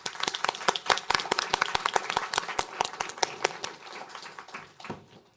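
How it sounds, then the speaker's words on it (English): Audience at a policy report launch event giving a round of applause: distinct, fairly sparse claps from a modest crowd, crisp and rhythmic at first, thinning out toward the end. "I'd like you to give them a round of applause"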